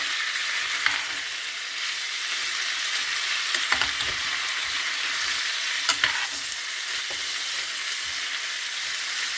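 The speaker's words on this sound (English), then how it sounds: "I stir that about every 2 minutes." Food stirred in a frying pan over steady sizzling, with a few soft scraping strokes of the utensil across the pan; nearby and fairly loud, with no talking.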